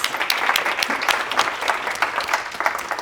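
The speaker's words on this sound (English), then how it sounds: "I just want you guys to give her a round of applause for doing this" A business-event audience applauds Jamie and her team, a dense, lively round of clapping that carries at full strength from start to finish with no voices over it.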